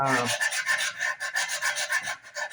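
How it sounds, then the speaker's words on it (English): A sanding block rubs by hand across a wooden Flying V guitar body, a close, rhythmic rasping of about ten back-and-forth strokes. "but I mean just from sanding across it."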